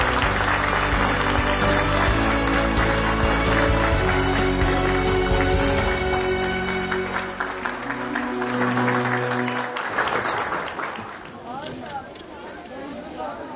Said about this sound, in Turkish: Tekrar alkışlıyoruz efendim.